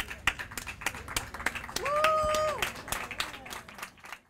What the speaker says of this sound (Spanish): creo que lo que podemos hacer es darle un gran aplauso a Mayra